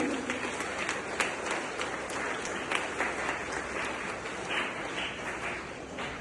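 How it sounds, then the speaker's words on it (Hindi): An audience at a school Hindi Day program gives loud, sustained applause for a student, an even wash of clapping from many hands. "एक बार और जोरदार तालियां आराध्या के लिए"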